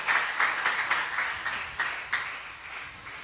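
A church congregation claps together in a steady, rhythmic burst of applause, loud and full throughout with no voices standing out.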